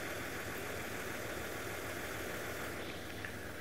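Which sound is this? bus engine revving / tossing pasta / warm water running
bus engine revving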